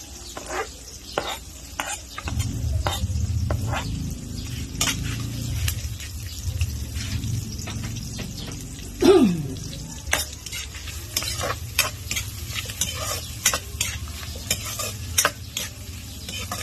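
Onions and garlic sautéing in a pan for tilapia bistek, a steady close sizzle with repeated scraping stirs and a few clinks of the utensil against the pan.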